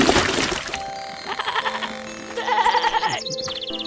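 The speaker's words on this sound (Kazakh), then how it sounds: "Ей, үнің өшкір, Теке. Бақыра берме," A billy goat bleats repeatedly in short, wavering cries, close and fairly loud, amid light rustling and a faint jingle in a rural village scene.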